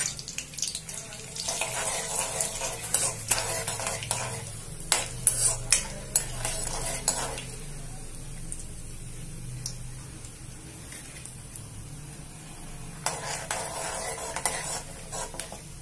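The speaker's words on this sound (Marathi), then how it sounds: "शेंगदाणे चांगले तळून घेऊ तेलात" Peanuts frying in hot oil with bloomed cumin for Jalgaon-style brinjal bharit, a steady close sizzle and hiss with stirring scrapes, swelling louder in bursts at the start and again near the end.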